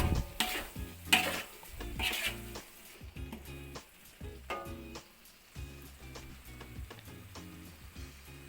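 A spoon stirring Indonesian beef stew (semur daging) in a pan over low heat, scraping and clacking against the metal in irregular strokes, with a soft sizzle underneath and no talking.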